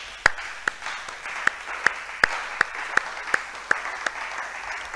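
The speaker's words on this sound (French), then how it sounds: "Acclamons très fort pour le Seigneur" A church congregation claps in a steady, regular rhythm, with about a dozen sharp, evenly spaced claps over a low wash of crowd noise, moderately loud and without clear talk.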